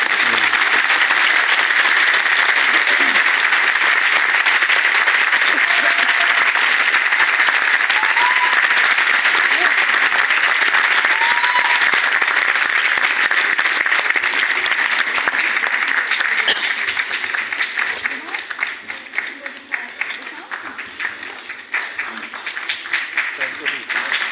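Seminar audience applauding a guest speaker, a dense sustained roar of many hands clapping that thins toward the end.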